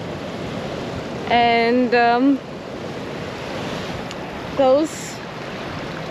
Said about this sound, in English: look at this water coming from the sea towards me